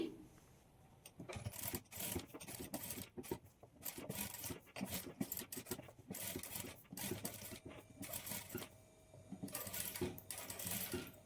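A sewing machine top-stitching along the edge of a boat-neck blouse, running in repeated bursts of rapid mechanical stitching separated by brief pauses, close and fairly loud with no talking.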